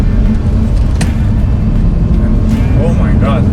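A V8 Audi R8 with a six-speed manual gearbox accelerating, a loud continuous engine drone heard from inside the car with a voice talking over it.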